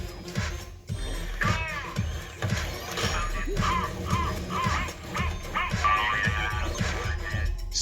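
A dog named Indy barks and whimpers in short, repeated yelps and whines over a busy background with clattering, close and fairly loud.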